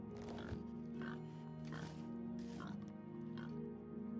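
Several grunting oinks from a wild boar in the video game Elder Scrolls IV: Oblivion Remastered, spaced about half a second apart, over a steady low background hum.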